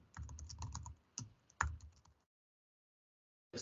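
Keys tapped on a computer keyboard while entering a flag in a cyber security exercise, a quick cluster of clicks, a short burst, then one more clack before silence and a faint final tap.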